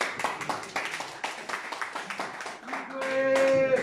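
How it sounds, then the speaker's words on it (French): Audience applause at a press conference in Paris, with a burst of clapping hands that rises and thickens toward the end amid crowd noise and some talk. "Est-ce qu'on peut applaudir, s'il vous plaît?"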